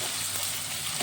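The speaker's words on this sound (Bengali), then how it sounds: "আবারও ভালোভাবে একটু মিশিয়ে নেব" Steady, close sizzling of chhana bhujia with tomato and ginger being stirred and fried in a pan, a loud, even hiss with no talking.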